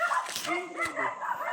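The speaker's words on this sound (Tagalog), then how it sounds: "Yung mga aso." Dogs near a hut on a rural walk, yapping and whimpering in a few short, close bursts, with some background voices.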